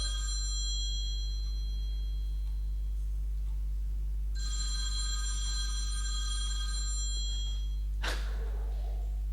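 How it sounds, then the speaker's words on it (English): A mobile phone rings with repeated electronic tones through a quiet room hum during a religious lecture, pausing and then ringing again, followed by a brief sharp rustle. "Whose phone is that?"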